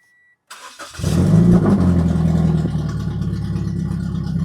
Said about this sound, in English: Let's see if this thing fires up and runs